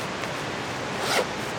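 A zipper on a GoLite Jam2 backpack drawn along in one continuous raspy stroke, close up, with a brief louder pull near the end and no talking.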